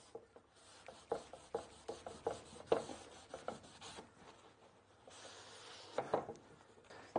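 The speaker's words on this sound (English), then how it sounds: "with a rag, and we just wipe off the excess glue" A wet rag wipes excess glue off wood in a series of short, soft rubbing strokes, quiet and close, with brief pauses between passes.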